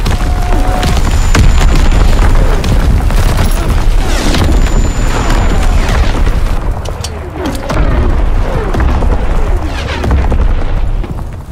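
A Fritz X guided bomb detonates in a Call of Duty WW2 battle, a loud, sustained rumbling boom with crackling debris and scattered distant blasts rolling on throughout, no voices over it.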